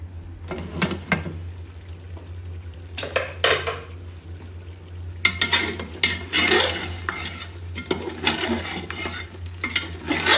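Mutton being stirred and roasted in an opened pressure cooker, with scraping and clinking of a metal spoon against the pot in bursts alongside faint sizzling of fat, close by and without talk.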